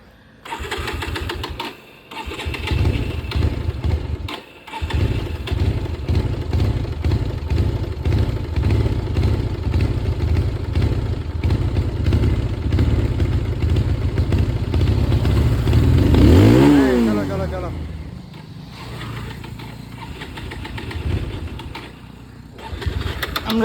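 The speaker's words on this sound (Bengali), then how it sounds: "তেল ছিল না, তাই সেলফেও একটু প্রবলেম হচ্ছে, একটু নেড়ে নিতে হবে বাইকটাকে।" A 2019 Bajaj Pulsar 220F motorcycle, low on fuel and struggling on the self-starter, cranks and catches, then runs at a loud close idle with a rev swell before settling, with brief pauses and no talk.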